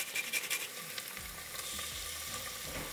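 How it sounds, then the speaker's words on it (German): Grated garlic and tomato paste fry in oil in a pan, starting with a few stirring scrapes and settling into a steady close sizzle. "So, dann brate ich meine 2 Knoblauchzehen mit dem Tomatenmark in Öl schon an."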